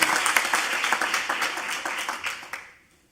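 Audience at a convocation applauding in a hall, a dense burst of clapping that starts loud, holds for about two and a half seconds, then quickly dies away.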